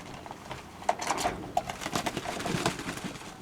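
Pigeons kept by a breeder coo and shuffle close by in short, uneven bursts, with rustling and soft knocks between the calls and no talk over them.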